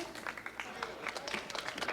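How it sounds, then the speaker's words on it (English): A school crowd claps for its school president in quick, scattered bursts at moderate volume, with talking mixed in. "let's have a big round of applause for our school president, Stephanie"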